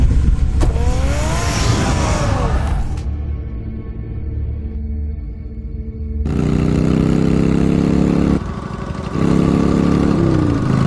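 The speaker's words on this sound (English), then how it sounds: "Get the car ready, Alfred." A car engine starts and drives away, loud and close, with revving and rising engine tones, a brief quieter idle stretch, then a renewed surge of driving noise.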